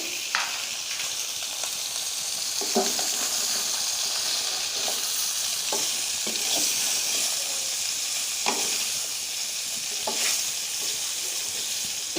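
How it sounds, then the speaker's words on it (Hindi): Pre-boiled beef fries in a pan for Peshawari chana pulao, giving a loud, continuous close sizzle with occasional light scrapes and taps from stirring and no voices. "अब इसमें डालेंगे बीफ, जो कि हमने पहले उबाल लिया था। इसको डाल के फ्राई कर लेंगे।"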